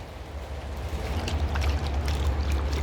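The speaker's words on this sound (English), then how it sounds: "You can hear the water coming down the downpipe together with the hail." Rainwater and hail pour down a downpipe outdoors in spring, a steady rushing gurgle with a low rumble that grows louder, dotted with light ticks of hail.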